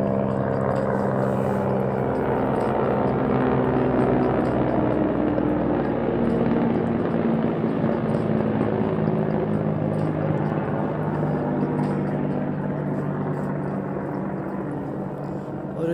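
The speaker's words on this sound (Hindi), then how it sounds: "मिलिट्री हेलीकॉप्टर बिल्कुल पास से जा रहा है।" A military helicopter passes close by with a loud, steady thumping rotor drone that holds for the whole stretch and eases off only slightly at the end.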